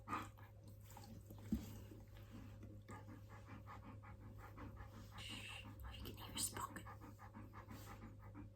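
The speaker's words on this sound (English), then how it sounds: "my puppies." Puppies panting in quick, steady rhythmic breaths close by, with faint soft voice-like sounds and a constant low hum underneath throughout.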